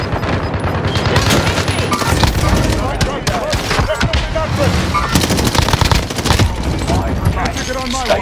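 Sustained heavy automatic gunfire in the Call of Duty Warzone battle royale game, loud and nearly continuous rapid bursts across the whole stretch, with voice chat and game announcer speech running underneath.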